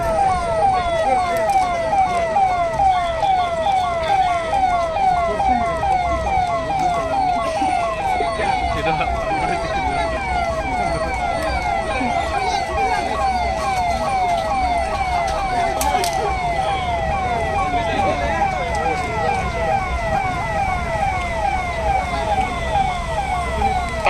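A fire engine siren wails, cycling steadily for the whole stretch during a fire brigade mock rescue drill, loud and continuous, with traffic rumble underneath and faint voices now and then.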